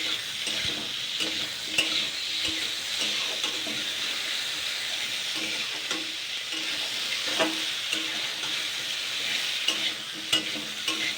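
Onions sizzle steadily as they fry in a pan, with repeated scraping and stirring clicks throughout, close and moderately loud with no talking.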